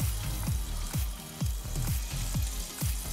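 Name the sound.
sizzle of meat searing in a hot pan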